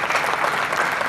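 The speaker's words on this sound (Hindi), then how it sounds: "बिना कहे आपकी तालियां बता रही हैं कि राजकुमार बादल जी कितने श्रेष्ठ कवि हैं।" Audience applause at a Hindi poetry gathering in Sujangarh, a dense, steady burst of many hands clapping together, loud and close for about a second.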